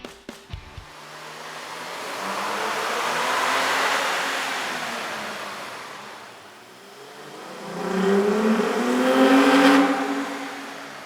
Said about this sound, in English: With the air intake installed, we ran the vehicle on the dyno to test the sound comparison versus the stock intake.